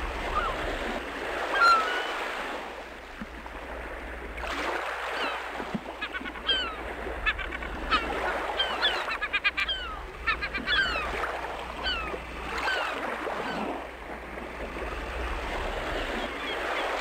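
Seashore birds on Ouessant, gulls, waders and ducks, calling in scattered bursts of short piping and squawking notes, some near and some farther off, over a continuous wash of surf and wind.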